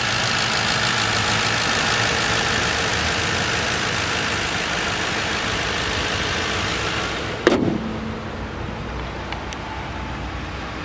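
The flex-fuel engine of a 2010 Ford Crown Victoria Police Interceptor idles with a loud, steady rumble and hiss, then abruptly drops in level near the end.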